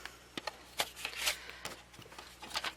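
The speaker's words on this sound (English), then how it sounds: "I'm going to cut the 4-inch strip" A paper cutter slices a 4-inch-wide paper strip, producing close, dry rasping swipes and light taps that come in short irregular bursts.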